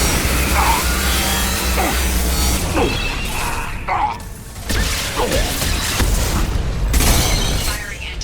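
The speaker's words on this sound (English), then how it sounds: "Firing anti-ship batteries at collector vessel." Anti-ship batteries fire at a Collector vessel in the video game Mass Effect 2: repeated metallic blasts and clanking mechanical bursts recur over several seconds, with a shuddering rumble underneath.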